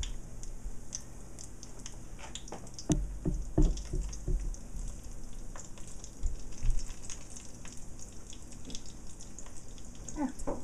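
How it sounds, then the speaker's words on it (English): Eggplant slices going into hot frying oil give a steady sizzle throughout, with louder bursts and clatter as pieces are added around the middle, close by with no talking. "My oil's hot, so I'll put my eggplant in there."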